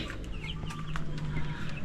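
Ready-to-lay hens from a farm flock cluck steadily and close by, with overlapping calls over a constant low background hum and no talk.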